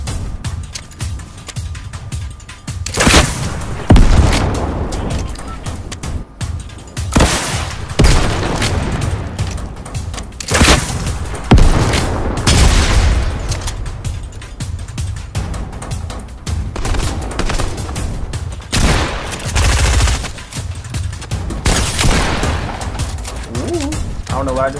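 In a Fortnite match, Bouncing Betty explosives go off as a barrage of loud, sharp blasts and bursts of gunfire-like cracks, repeating throughout over a noisy game backdrop.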